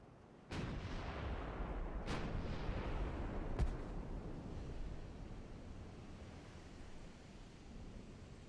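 A battleship's heavy guns in a naval warfare game fire three booming shots a second or so apart, each followed by a long rumbling roar of the sea and wind that slowly fades.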